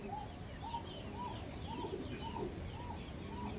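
Kamangar pigeons cooing in a loft, a steady run of soft, repeated coos about every half second over a constant low background hum, close and moderately loud with no talking.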